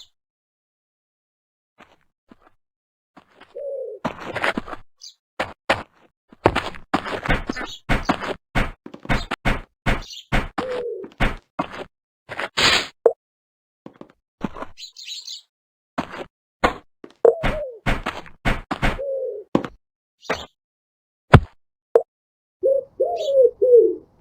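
Bird calls from the game Survivalcraft 2.3, a run of sharp repeated clicks and chirps with occasional low cooing notes, fairly steady and close, no talking.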